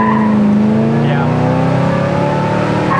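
A 1970 Chevelle with a built transmission accelerates hard, its loud V8 roar climbing and then dropping at a quick shift near 4,000 RPM, with tire noise under it and voices over the engine.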